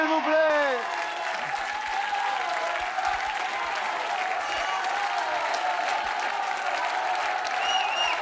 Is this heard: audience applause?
yes